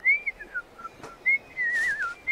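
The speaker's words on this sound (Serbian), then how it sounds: "ču kako prasence veselo zvižduće" Cheerful melodic whistling alone in a fairy tale of a little pig, a clear run of rising and falling notes with a few short breaks, close and fairly quiet.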